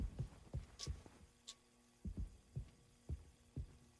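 Heavy footsteps echo through a spaceship cargo hold in the horror game Mouthwashing. The faint, low thuds fall in regular doubled pairs like a slow heartbeat, over a quiet steady hum.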